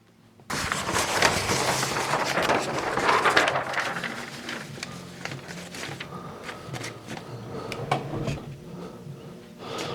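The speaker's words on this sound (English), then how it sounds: "Just slide the drawer in." A large-format sublimation heat press drawer slides shut with a sustained rolling, scraping rush that gradually settles into lighter clicks and rattles, close to the microphone with no talking.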